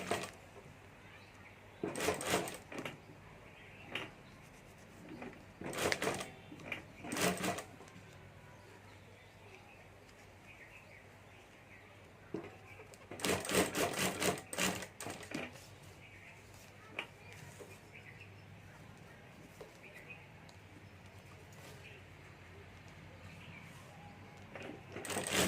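A sewing machine stitches fabric laid over a template for a hand bag, running in a few short, fairly loud bursts separated by quieter stretches of low background noise.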